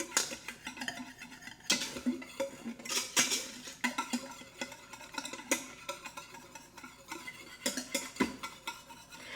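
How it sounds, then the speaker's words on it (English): A whisk clatters steadily against a pot while potato salad dressing is mixed, the metal scraping and tapping in busy bursts. "I'm going to switch over to my whisk."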